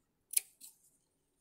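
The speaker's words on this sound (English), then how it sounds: "I'm going to get my black felt. I'm going to cut a rectangle." Scissors snip black felt to cut a rectangle for a felt cat mask craft: two quick, crisp snips close by in a quiet room, then a faint trailing click.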